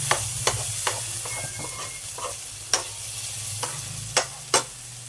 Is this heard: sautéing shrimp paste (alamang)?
yes